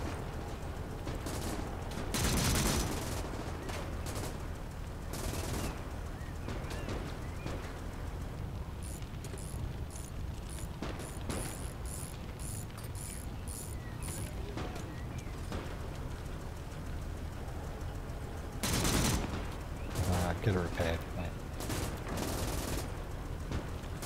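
A tank's machine gun in a Gates of Hell battle rattles off repeated bursts at infantry, sharp bursts cutting through steady battlefield rumble at moderate distance, with occasional louder blasts.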